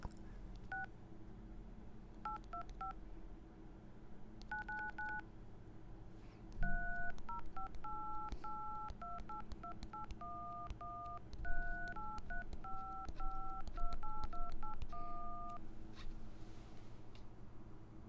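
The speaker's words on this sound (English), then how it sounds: "let's press random buttons on the phone and see what noises they make" Phone keypad buttons pressed at random, sounding a long run of short two-tone DTMF beeps in irregular bursts, some quick and clipped, others held longer, close and clear over a steady low hum with no talking.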